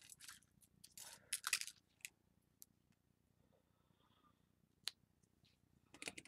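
Scissors snipping paper or card during a glue-and-paper craft project, a few quick crisp cuts clustered early and again near the end, close and fairly quiet with gaps of near silence between.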